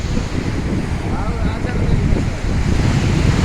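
Sea waves along the coast under strong wind, a continuous rough roar of surf with wind buffeting the microphone, loud and unbroken throughout.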